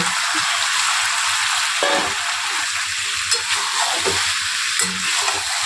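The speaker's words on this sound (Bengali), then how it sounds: "আলুর সাথে চিকেনটা আরেকটু ভালোভাবে কষে নেব" Chicken pieces and pre-fried potatoes stir-fried together in a pan, a steady hissing sizzle broken by repeated scraping and clanking of the spatula, up close and fairly loud, no speech.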